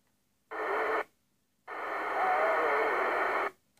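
A President George CB radio with the squelch turned fully down, giving two bursts of loud hissing static, a short one and then a longer one, separated by silence.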